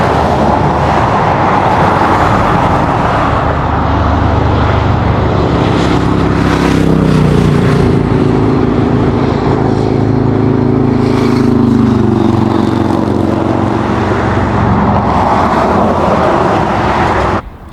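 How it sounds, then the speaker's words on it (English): Steady roar of passing road traffic, cars and heavier vehicles swelling and fading as they speed by, continuous throughout with no talking. "There are so many cars just like zooming down the road."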